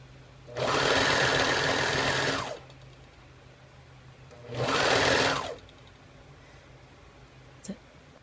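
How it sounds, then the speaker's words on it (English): A sewing machine stitches two layers of a maxi skirt together in two runs, the first about two seconds long and the second about one second, each loud and close with a steady whir, and a quiet pause between them. "Just sewing the two layers together."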